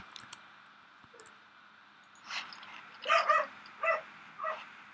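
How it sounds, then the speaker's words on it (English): A dog barks a handful of times at moderate distance, sharp yips clustered near the end after a quiet stretch with faint clicks. "Oh, that dog's getting on my nerves now."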